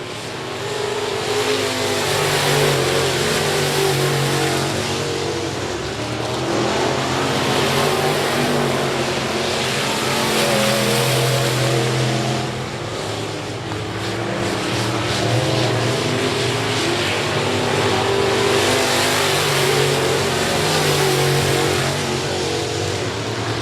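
Race cars lap I-37 Speedway in a continuous loud engine roar that swells and fades as the pack passes, with steady revving throughout.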